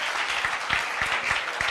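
A church congregation claps during a sermon, a brief burst of dense, steady applause close by.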